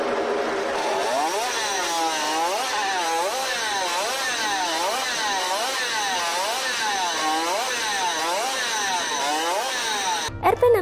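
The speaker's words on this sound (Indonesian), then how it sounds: "Motor Suzuki RP68 ini mampu berlari hingga 170 km per jam sampai 200 km per jam." A Suzuki RP68, a 1960s 50 cc two-stroke racing motorcycle, screams at very high revs, its pitch rising and falling in steady repeated sweeps as it runs loud and close throughout, cutting off abruptly near the end.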